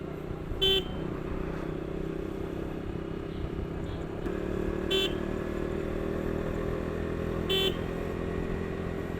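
Motorcycle riding along a road near the Ganga ghat at Sheoraphuli, Howrah, with a steady engine drone and road traffic, punctuated by three short horn toots spaced a few seconds apart.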